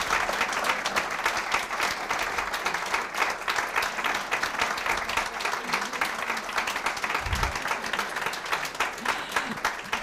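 Audience applause after an artist talk on the Beaver Hall Group, steady dense clapping from a large crowd lasting the full stretch, fairly distant and even with no speech over it.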